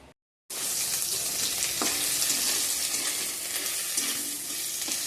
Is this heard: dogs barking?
no